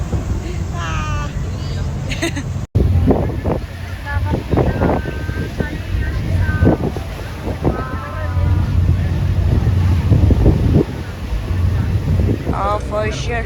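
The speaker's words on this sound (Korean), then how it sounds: "So we are in the ferry, right?" Aboard a New York ferry, gusty wind buffets the microphone over a low vessel drone and water noise, while people chat throughout.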